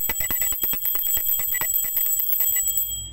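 A small brass puja hand bell rings rapidly and steadily for about three seconds, bright metallic strikes in quick succession, close and fairly loud.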